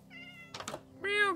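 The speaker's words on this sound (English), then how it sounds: "Little fellas. Meow. Kitty. Kitty." A cat in the Minecraft video game gives a short meow, with a quiet mechanical clatter just before it.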